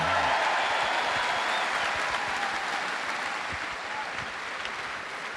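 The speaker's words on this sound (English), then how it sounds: "Give a round of applause to Dimitar" A crowd at a deadlift championship applauds a competitor, a steady, dense wash of clapping that holds evenly for several seconds before tailing off slightly, with faint voices mixed in.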